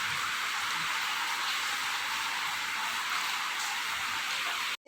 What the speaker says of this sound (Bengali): এই যে ঝমঝম করে বৃষ্টি পড়ছে।